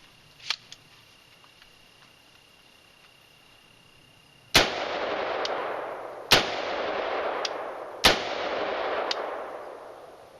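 An assault weapon fires three loud, sharp reports spaced a couple of seconds apart, each leaving a long echoing tail, after a few faint clicks in a quiet setting.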